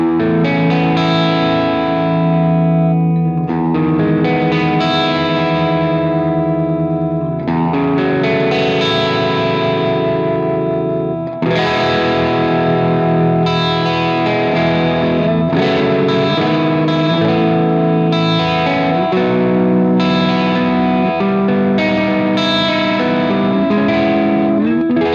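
Electric guitar on the middle pickup runs through a machine-learning amp sim plugin on its brilliance setting, giving a loud, driven tone with chorus-like shimmer as chords and riffs repeat in phrases, played alone.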